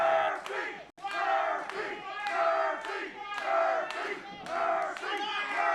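A wrestling crowd cheers and chants loudly at a live event, with rhythmic roaring waves of voices that are continuous and dense, filling the whole space.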